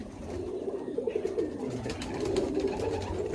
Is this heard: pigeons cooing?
yes